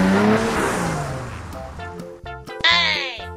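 A cartoon car is driven fast, with a falling engine whine followed by choppy, clattering bursts and a squealing, high-pitched tire-like screech near the end, all loud and close.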